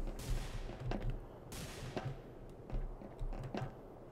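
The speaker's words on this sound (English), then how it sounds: "Not sure what that guy's shooting yet." Scattered gunshots in The Hidden multiplayer game, several sharp cracks spaced irregularly with a bigger burst near the start and another midway, over a dense game background.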